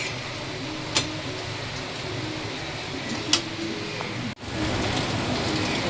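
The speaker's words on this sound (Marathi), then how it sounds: "जोराचा आला बाबा पाऊस." Heavy rain pours down in a steady, dense hiss close by, broken by a couple of sharp clicks and a brief dropout before the downpour continues.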